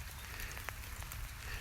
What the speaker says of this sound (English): Hopefully you can hear the raindrops. And yes, I'm sitting outside and it's drizzling.